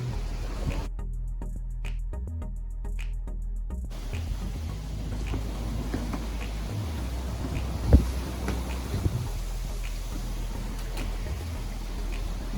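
Steady wind rushes over a sailboat at sea off the Atlantic coast in about 12 knots of breeze, a low continuous roar with faint creaks and an occasional thump.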